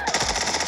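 Rapid automatic gunfire from a first-person shooter video game, a dense continuous burst of shots over a loud steady bed of game sound, with no talk in the moment.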